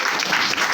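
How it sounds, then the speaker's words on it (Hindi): Audience applause at a company plan presentation, a brief dense burst of clapping, loud and steady throughout. "डॉक्टर प्रमोद दुबे सर के लिए एक बार जोरदार तालियां होनी चाहिए"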